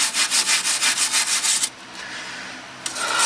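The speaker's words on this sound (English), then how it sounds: "with the wire brushing, we want to get as much of that grit and crud out of there as we can" Wire brush scrubbing grit and crud off an automotive ball joint: about a dozen quick, rhythmic rasping strokes up close, then a short pause with a faint hiss before scrubbing resumes.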